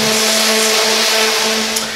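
Power sander working on the wood of a cable spool, a loud steady whine with a constant motor hum filling the whole moment, close and unbroken with no voices.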